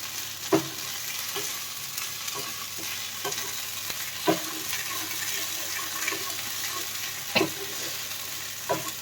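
Kharkol paste fries in a pan with a steady, close sizzle while a utensil stirs it, giving occasional scraping knocks at irregular intervals.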